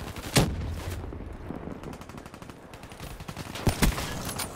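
Gunfire from the CUDA submachine gun in Call of Duty: Black Ops III on the Nuketown map, with rapid bursts of shots and a few louder cracks standing out against the game's background noise.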